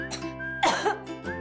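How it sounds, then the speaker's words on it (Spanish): A single harsh, close cough with a throaty rasp rises over a steady hum. Softer breathy sounds come just before and after it. "Sale la tos, pero la flema no."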